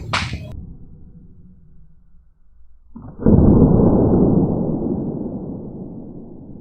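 A paper rocket is launched horizontally outdoors: a sharp burst opens, then after a quiet pause a loud sustained whooshing rush follows and slowly trails off.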